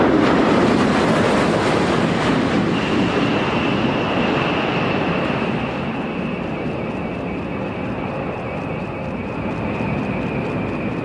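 Space shuttle orbiter rolling out on a runway after main gear touchdown, a loud, steady broadband roar with a sustained whine that holds across the whole stretch.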